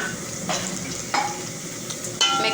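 Chicken with whole spices, turmeric, red chili and coriander powder sautéing in a pan, a steady close sizzle broken by a few scraping stirs, with no voices.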